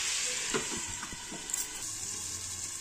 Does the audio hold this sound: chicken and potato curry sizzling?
yes